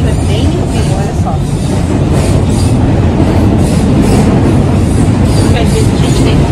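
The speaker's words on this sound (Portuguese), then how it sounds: "o metrô acabou de chegar, então a gente vai correr pra pegar aqui" Rio de Janeiro metro train arriving at a station, a loud continuous rumble of wheels and rail noise with faint squeals, filling the whole stretch while voices are heard nearby.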